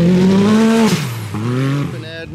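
A Can-Am off-road vehicle fitted with a huge turbo revs, its engine pitch rising and then dropping. A thin turbo whine sweeps over it, then comes a second shorter rev that fades out.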